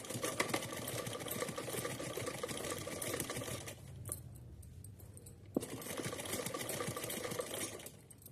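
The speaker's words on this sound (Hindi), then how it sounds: "यहाँ रेड वाले फैब्रिक के ऊपर सिलाई लगा लेना है।" A sewing machine stitches red fabric for a small summer dress for a Laddu Gopal figure, running in a fast, close, rattling whir, pausing briefly midway with a click before resuming its steady stitching.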